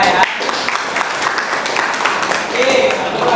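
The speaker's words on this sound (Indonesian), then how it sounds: "tepuk tangan buat teman kalian Siva ya" A classroom of students claps for a classmate during a lesson, a short burst of scattered applause mixed with voices.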